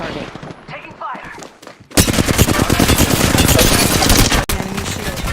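Video game gunfire erupts abruptly and loudly after a quieter start, sustained rapid automatic bursts close up, briefly cutting out near the end before resuming.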